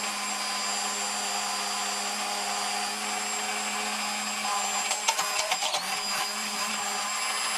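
A continuous high-pitched motor whine of a Cuisinart immersion blender making mayonnaise, steady and close, with a brief rattling change in tone near the end.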